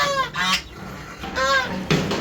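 Chinese geese on a rooftop honk loudly and close by in repeated nasal calls, several overlapping bursts in quick succession, with no speech.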